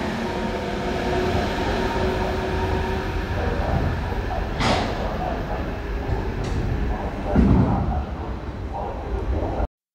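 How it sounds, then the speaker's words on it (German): An IC intercity train departing Braunschweig main station at night, a steady loud rumble of rolling wagons throughout with a couple of sharp clanks and squeals, heard close on the platform with no talk. "Und unser IC 2032. Jawohl, nach Emden hat Ausfahrt."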